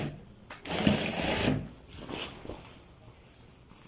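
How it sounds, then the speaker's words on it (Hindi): A sewing machine stitches the hem of a child's kurta in a close, loud, rapid burst of about a second, followed by quieter handling and shuffling of the fabric. "यहाँ से अब हम अपनी स्टिचिंग स्टार्ट करते हैं"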